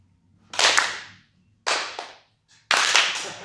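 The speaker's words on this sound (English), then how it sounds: "when I start to go backwards, clap." Three sharp, echoing hand claps spaced about a second apart mark timing cues during a martial arts drill at a seminar in Vegas; each clap rings out loud and alone with a short reverberant tail.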